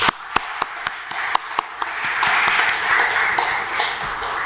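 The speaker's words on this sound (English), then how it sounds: "Please join me in welcoming our esteemed speakers with a huge round of applause." An audience at a blockchain technology meetup claps to welcome the speakers. A few sharp, separate claps come first and build into fuller, steady applause from the crowd.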